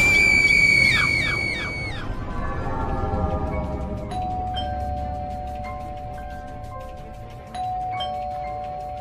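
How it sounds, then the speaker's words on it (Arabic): A door bell rings with a few sustained chime tones after a loud opening scream, and the tones ring out over a steady, low background hum. "جرس الباب رن، صحيت على صوت الجرس"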